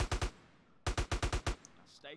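AK rifle fire in GTA San Andreas: two quick bursts, first three shots then a longer string of six rapid shots, sharp and moderately loud, followed by a faint short voice-like sound.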